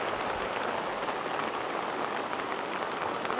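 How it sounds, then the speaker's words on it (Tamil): Steady rain falling and pattering on surfaces, a dense continuous hiss of drops that stays fairly loud and even from start to finish, with no voices over it. "நல்லா குளிர்ச்சியாக இருக்குது இந்த மழை பெய்யுறது."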